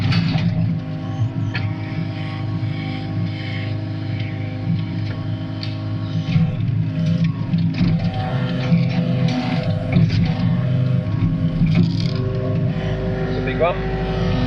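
An excavator engine drones steadily and loud at close range, with shifts in pitch and load while it pokes at a fire, and a person talks over it at times.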